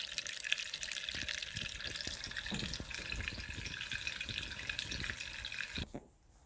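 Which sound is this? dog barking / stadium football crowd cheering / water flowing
water flowing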